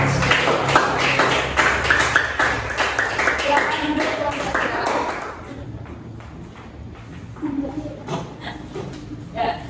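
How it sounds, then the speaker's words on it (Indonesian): A classroom of students applauds together after group presentations, a dense burst of clapping with some chuckles that fades out after about five seconds, leaving quieter room noise and scattered taps. "kita beri tepuk tangan dulu."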